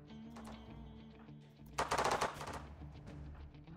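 Colonists in RimWorld open fire in bursts of rapid game gunshots over a steady hum of background music, with a dense, louder volley in the middle before the shooting thins out again.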